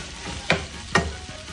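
A spatula stirs food in a hot, sizzling pan after Maggi Magic Sarap seasoning is added, making two distinct scraping strokes over a steady frying hiss, close up and with no talking.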